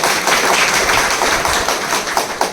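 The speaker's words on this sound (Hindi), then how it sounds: "तो भाई जी के लिए जोरदार तालियां।" Loud, sustained applause from a meditation session audience at Mount Abu, a dense wash of many hands clapping steadily throughout with no talk over it.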